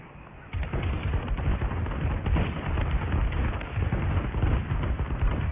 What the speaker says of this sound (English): Friendly bombing run clearing away.